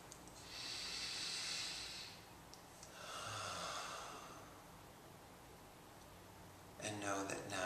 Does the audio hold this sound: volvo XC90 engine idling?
no